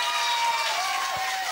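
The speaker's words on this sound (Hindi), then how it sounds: "जोरदार तालियां बजाएं इस परफॉर्मेंस के लिए।" Applause from the audience for a stage performance at a girls' college cultural event, a dense, steady wash of clapping and crowd noise filling the whole moment without pause.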